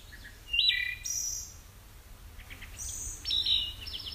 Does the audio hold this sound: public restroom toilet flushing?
no